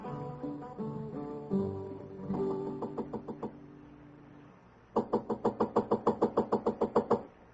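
Someone raps on a hotel room door in San Francisco, 1875, with a quick run of sharp knocks, then after a pause a longer, louder run of about a dozen, over a faint musical backdrop.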